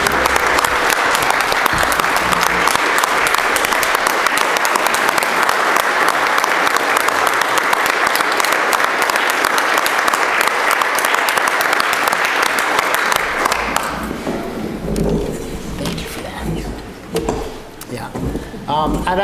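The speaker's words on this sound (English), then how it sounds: "I think that's a round of applause or something" Audience applause at a Hinesburg Selectboard town meeting, steady dense clapping from a room of people that runs for about fourteen seconds, then thins out into scattered claps and room murmur.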